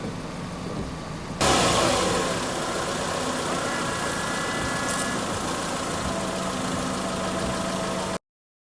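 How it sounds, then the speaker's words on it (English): A car's front windshield washer sprays fluid in a sudden hissing burst that continues steadily for several seconds over a low idling engine, then cuts off abruptly. "To wash the window, just pull the lever slightly towards you."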